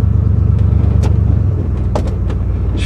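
A 1995 Ford Bronco cruising slowly through a neighborhood, a loud steady low engine rumble heard from inside the cabin with a few light clicks and knocks on top, no talking.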